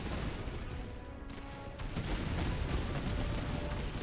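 Musket volleys trading back and forth in the Napoleonic-era strategy game Master of Command, British campaign, a continuous crackle of distant rifle fire with dull booms, steady and dense with no talk.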